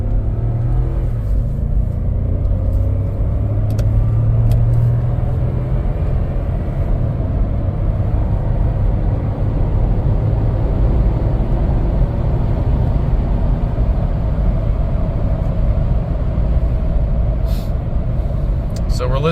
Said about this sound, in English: So we're listening for any kind of drivetrain noise, wheel bearing noise.